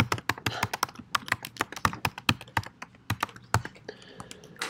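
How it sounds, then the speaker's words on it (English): Email address typed on a computer keyboard: steady, close clatter of individual key taps at a brisk, slightly irregular pace, with no talking. "Then you're going to type your email address."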